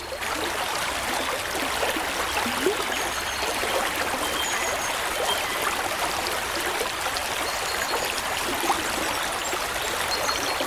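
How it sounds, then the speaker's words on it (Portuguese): The turbulent current of the Congo River makes a dense, unbroken rushing roar of churning water, steady and loud throughout with no voices. "Esta corrente turbulenta é o cadinho evolutivo da natureza."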